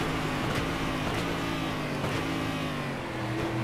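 A stock car in a racing video game revs with its push boost engaged, a steady, loud engine whine with gear shifts and a track setting at Curitiba.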